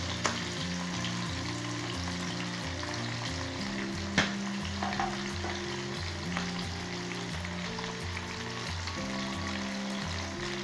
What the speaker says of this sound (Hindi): यहाँ पे हमारे प्याज 2 मिनट हमने फ्राई करने के बाद इसमें हमने आलू डाल दिए